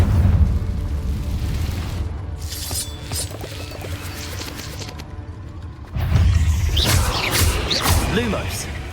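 Spell blasts from Hogwarts Legacy gameplay, the Confringo fire spell booming with low rumbling explosions and whooshes, loud and continuous with a renewed burst partway through, mixed with game effects and voices.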